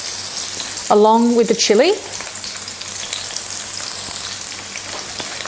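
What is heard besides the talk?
onions frying in olive oil in a pan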